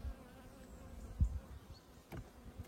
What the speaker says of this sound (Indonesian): Ini di sekeliling aku banyak banget tawon ya guys ya.